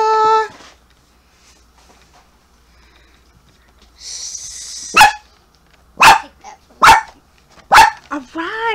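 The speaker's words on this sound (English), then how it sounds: "He loves to bark, I swear." A dog barks four sharp, loud times in close succession nearby, after a brief tone and a stretch of quiet, with a short yip trailing at the end indoors.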